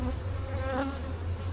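Honey bees buzz steadily inside a nuc hive, a close, continuous drone with a low hum and slight swells in pitch, with no voices over it.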